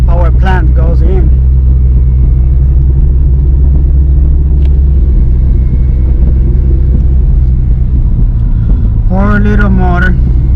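A small car engine runs steadily at idle ahead of a Coyote turbo engine swap, giving a loud, constant low rumble throughout, with someone talking over it at the start and again near the end.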